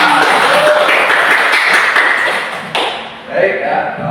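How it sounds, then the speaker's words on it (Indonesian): A classroom of students bursts into clapping at a teacher's prompt, a dense ripple of hands that fades after a few seconds, with a voice and room noise following. "kasih tepuk tangan."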